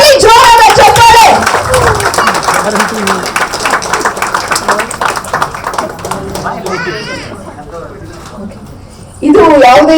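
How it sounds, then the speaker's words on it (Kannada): An audience applauds loudly at the launch of Guarantee News, a new news channel, the clapping running for several seconds under and after a loud voice and then fading before talk resumes. "ಬನ್ನಿ ಜೋರಾದ ಚಪ್ಪಾಳೆ"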